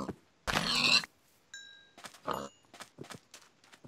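Pigs in Minecraft give several short grunting oinks, one long loud squeal followed by a series of quick, closer snorts scattered across a few seconds, with a brief chime-like game tone in between.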